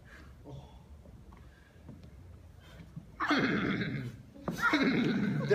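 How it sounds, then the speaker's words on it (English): Horses neighing as a sound effect: two loud, drawn-out whinnies follow a quiet stretch with faint background sound, the second call rising sharply after a short gap. "There were horses everywhere."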